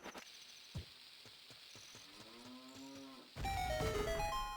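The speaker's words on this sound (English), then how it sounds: "I hear a cow mooing." A cow moos in the video game Ocarina of Time, a drawn-out low rising moo over a soft chirping insect ambience, then a bright chiming musical jingle cuts in.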